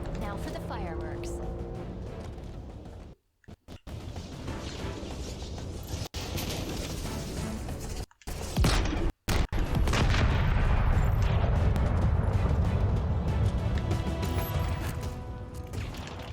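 Explosions in Halo Infinite on Zeta Halo as silos blow, a barrage of heavy booms and crashing debris with brief dropouts, then a deep sustained roaring rumble, mixed under speech.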